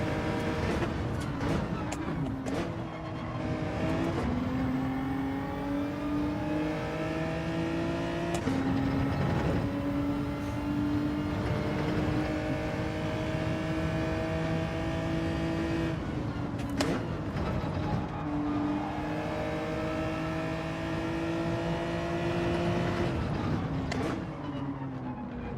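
Racing car engine in Gran Turismo 7, revving steadily high with repeated pitch climbs and brief drops at gear changes, loud and continuous for the whole stretch.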